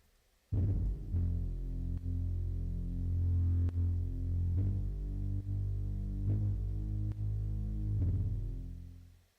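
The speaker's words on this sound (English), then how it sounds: "that's a nice rumbly bass" A deep, rumbly trap-style synth bass plays a sustained low line of several long notes that slide in pitch, loud and alone, fading out at the end.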